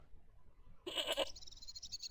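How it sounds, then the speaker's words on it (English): A single short goat bleat sounds in the point-and-click adventure game Broken Sword, loud against a quiet background and followed by a lingering thin tone. "Was that a goat?"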